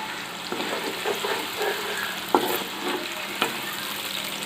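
Cumin sizzles in hot oil for Saudi chicken mandi, a steady close crackle and hiss broken by a few sharp taps from stirring. Nobody speaks.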